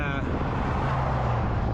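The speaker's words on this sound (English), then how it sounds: "let's wait for these cars to go by." Cars pass on Highway 3 near Creston, British Columbia, a loud continuous roadside rush of traffic and wind noise close by, with no talk over it.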